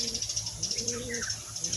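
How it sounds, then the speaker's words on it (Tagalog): Soft, low pigeon coos repeat in short phrases against a steady background hiss, close by and moderately quiet, from pigeons perched on a building. "Meron kasing kalapati sa building mga kalapatids eh, kaya dumapo siya."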